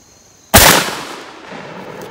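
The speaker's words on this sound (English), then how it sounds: "I don't think I've shot a 3-ounce load in a while, either." A single close, loud shotgun blast from a 3-ounce load of buckshot, a sharp crack that decays into a rolling outdoor echo lasting over a second.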